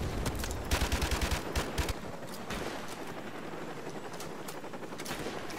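Assault rifle gunfire in the Modern Warfare Remastered campaign: rapid bursts of shots in the first two seconds, then scattered single shots over a constant battlefield din.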